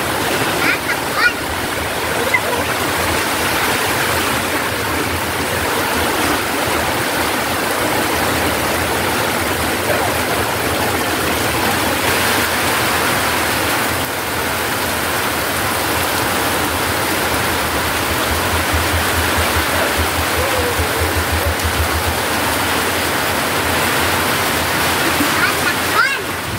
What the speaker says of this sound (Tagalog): Medyo kumalma na po yung ulan, no?